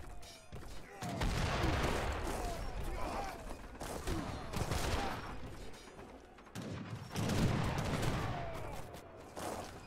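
Massed musket and artillery gunfire in an Age of Empires III treaty battle, German civilization, dense overlapping volleys in two long loud bursts with brief lulls between.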